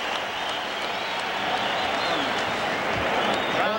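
A boxing arena crowd cheers and applauds steadily as round 5 of a 1995 bout at the Forum closes, a dense, continuous roar at even loudness throughout.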